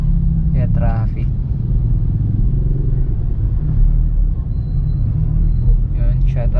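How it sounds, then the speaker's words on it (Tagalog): Road traffic with cars and motorcycles on a diversion road as students leave school, a continuous low rumble of engines passing nearby, with brief high vehicle whines and a person talking over it. "Kaya traffic."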